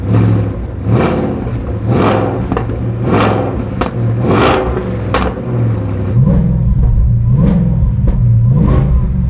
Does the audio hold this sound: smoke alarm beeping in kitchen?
no